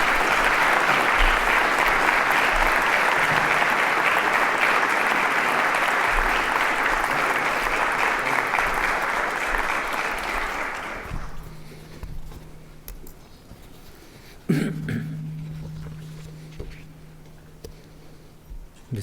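A crowd applauds loudly and steadily to welcome General Pervez Musharraf; the clapping fades after about ten seconds, leaving a quiet room with a thump and a low hum.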